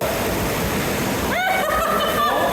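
Water rushes steadily through an indoor water garden in Japan, a loud, close, continuous splashing wash, with faint whistling tones rising partway through.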